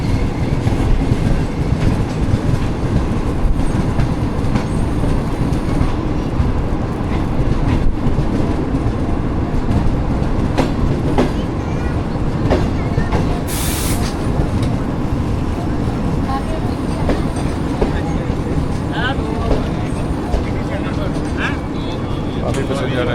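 Loud continuous rumble and rhythmic clatter of the New Pak Business Express rolling into Sahiwal railway station at night, heard from on board, with a brief high squeal midway and voices talking under the din.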